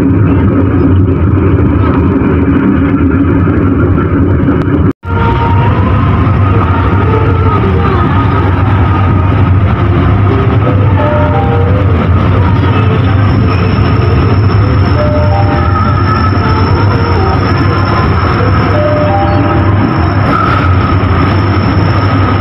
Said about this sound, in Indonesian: komuter lain Doho sudah masuk dan berhenti di jalur 1 stasiun Kertosono